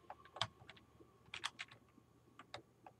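Gaming keyboard keys tap in short irregular bursts as movement keys are pressed, crisp clicks heard up close and fairly quiet, with no talking.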